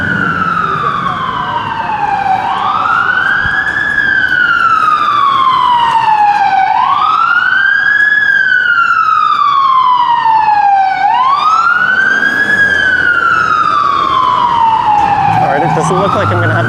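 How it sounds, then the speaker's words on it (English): Emergency vehicle sirens wail through downtown Toronto traffic, loud and close, sweeping up and down in a repeating cycle every few seconds over steady street noise. "Downtown, and its never-ending parade of sirens."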